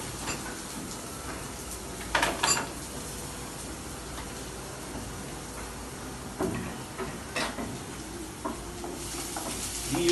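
Chopped onion and garlic sizzle in a frying pan for kung pao chicken in a hotel college kitchen, a moderate steady crackle broken by a few spatula knocks and scrapes.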